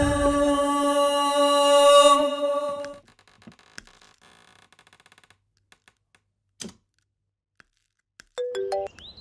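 A phone rings loudly for about three seconds with a bright repeating electronic tone, then cuts off into near-silence broken by scattered small clicks and a short beeping tone near the end.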